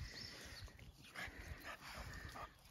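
A Shih Tzu puppy whimpers and yips softly in short, thin bursts, close by and quiet, with no talking over it.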